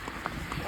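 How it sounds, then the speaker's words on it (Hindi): Horse hooves clip-clopping on a pony ride up to Baisaran Valley near Pahalgam in Kashmir in December, a few quick soft hoof clops close by over a low outdoor murmur. "ऐसे ही घोड़े पर सवार होके हम लोग व्यू पॉइंट्स की ओर बढ़ने लगे।"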